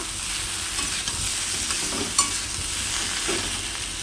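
Steady sizzling of vegetables frying in a pan, a constant crackle close by with a couple of light stirring clinks, no talking.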